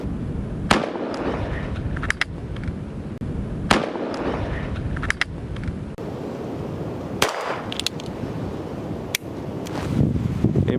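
Single revolver shots from a Ruger Wrangler or Heritage Rough Rider fired outdoors, several loud sharp cracks spaced a few seconds apart over steady wind noise on the microphone.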